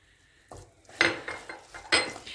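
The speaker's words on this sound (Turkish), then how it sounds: "Şimdi artık fındıklarını da ilave ediyoruz içerisine." Hazelnuts are tipped into flour halva in a pan and stirred with a utensil, giving several close, sharp scraping and clinking knocks against the metal pan.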